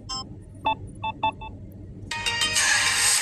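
Several short, spaced electronic tones beep like a phone chime. A denser, brighter WhatsApp call ringtone melody then starts and keeps playing.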